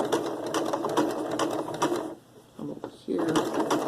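A sewing machine stitches a rope bowl in quick bursts of rapid mechanical chattering, pausing briefly mid-way before resuming, with a voice speaking softly nearby.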